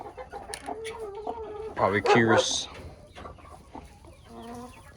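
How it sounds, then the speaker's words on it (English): A backyard chicken clucks and calls near a brooder, with several close, loud squawks in the middle of the clip, while a person speaks over the softer clucking. "Oh, the chicken's coming in."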